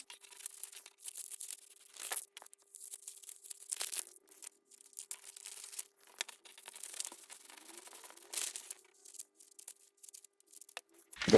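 Scissors cutting a paper sewing pattern for balloon trousers, irregular soft snips and crinkles of paper, quiet and close, with no talking.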